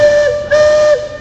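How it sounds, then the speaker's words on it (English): Loud, sustained steam whistle of the Magic Kingdom riverboat Southside Belle, a steady tonal blast with a brief dip midway before resuming, then cutting off, no voices. "That whistle. Yeah, that whistle."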